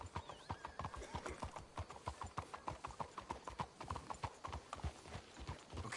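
Horses trot in Red Dead Redemption 2, with steady rhythmic clip-clop hoofbeats close up, one after another throughout, and a faint whinny and no speech.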